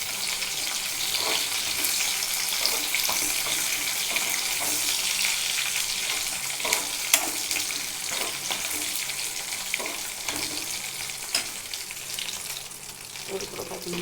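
Dry red chillies with curry leaves sauté in a pan, a continuous crackling sizzle with intermittent stirring clicks, close and fairly loud, no talking.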